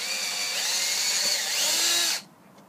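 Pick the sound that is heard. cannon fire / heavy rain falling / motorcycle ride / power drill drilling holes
power drill drilling holes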